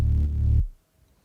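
Wide sub bass without multiband mono processing, a single loud, full, buzzing note that holds and then cuts off into silence.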